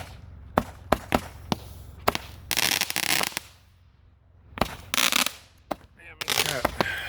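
Consumer fireworks set off outdoors on a July night, with sharp crackling bangs and several longer roaring bursts of crackle scattered through, fairly close, between quieter gaps with faint background talk.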